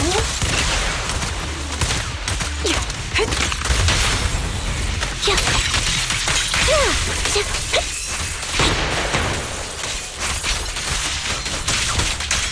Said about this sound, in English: Watch out for Grim Vulture taking shots from afar.